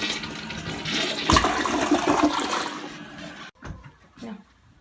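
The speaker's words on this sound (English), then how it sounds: "let's give it another flush." A household toilet flushes after its float is adjusted: a loud rushing swirl of water that drains away, then quieter gurgles and refill trickles.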